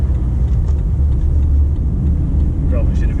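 A car engine runs steadily at close range while the vehicle keeps rolling through slow traffic, a constant low rumble throughout; no one talks over it.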